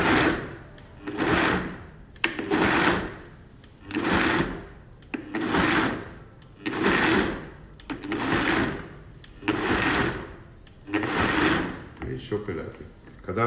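A hand mixer blends gazpacho in repeated whirring bursts of about a second each, rising and falling in a steady rhythm, loud and close with no voices.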